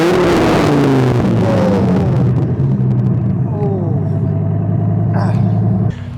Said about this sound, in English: let's try the high rev again